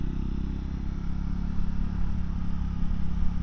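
A 2024 Triumph Scrambler 400X motorcycle engine climbs in revs while riding, a steady low-pitched drone with slight surges under wind rush.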